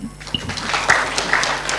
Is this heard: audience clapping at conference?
yes